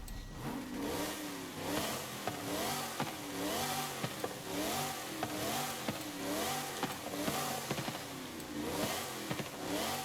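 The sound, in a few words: car engine revving in video game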